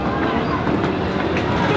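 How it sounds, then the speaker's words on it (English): Small amusement park train at Blackpool Pleasure Beach rumbles past close by, a loud, steady clattering roll of wheels on track lasting throughout. "That little train is awesome."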